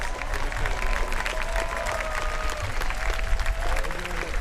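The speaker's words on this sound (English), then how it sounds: "Let's give a round of applause for Robert." Outdoor crowd applause at a community picnic at the Texas Capitol, a steady wash of clapping from a mid-sized gathering with faint murmuring underneath, continuing without a clear break.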